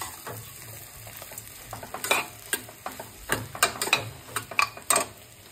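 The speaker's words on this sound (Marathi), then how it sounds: "उकडलेले बटाटे घालायचे जे कुस्करून घेतलेले आहेत मी। आता हे सगळं आपण मिक्स करून घेऊया।" Mashed boiled potatoes being stirred into a frying pan for batata bhaji, with a steady soft sizzle under repeated scraping and clinking strokes of a spoon against the pan, close and moderately loud.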